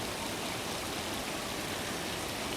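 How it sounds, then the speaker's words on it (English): Steady, even rush of water flowing in a fountain fed by a waterfall at a scenic venue, a constant broadband wash with no breaks and no talk over it. "That fountain's fed by the waterfall."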